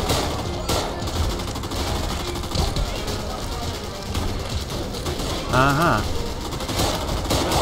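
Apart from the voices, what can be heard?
enemy shotgun gunfire in video game Raid WW2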